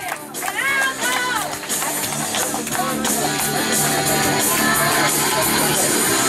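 Crowd applause and cheering at an awards ceremony for the winners of the Shipka 2013 car race, a loud, dense, continuous roar of clapping and shouts throughout.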